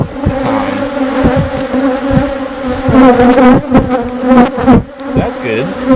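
Honey bees buzz loudly and continuously at close range during a hive inspection on a North Carolina farm, a dense droning hum with intermittent sharper clicks and knocks from handling frames.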